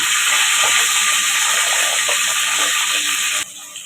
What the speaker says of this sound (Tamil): 4 குழிக்கரண்டி எண்ணெய் சேர்த்துக்கலாம். வெங்காயம் சேர்த்துக்கலாம்.